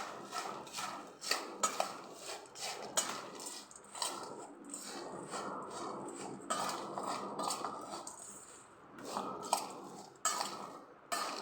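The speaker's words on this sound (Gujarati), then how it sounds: "બધું બરાબર મિક્સ કરી લેશું પહેલાં" Chatpata bhel made with onion is stirred and mixed in a metal bowl, a spoon clinking and scraping in quick irregular bursts, close and fairly quiet, with no talking.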